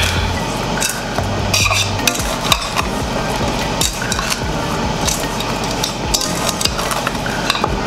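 Seasoned cauliflower pieces tossed with olive oil in a bowl, a busy run of close clinks, knocks and wet shuffling from constant mixing.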